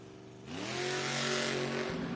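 A Ford Mustang drag car at a footbrake drag racing event launches hard from the start line, its engine note climbing in pitch and holding a loud, steady roar for about a second and a half.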